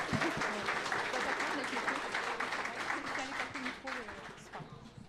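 Audience applause at a French-speaking event, given in congratulation to Jacqueline for a right answer: steady, full clapping from a crowd that runs the whole stretch without a break.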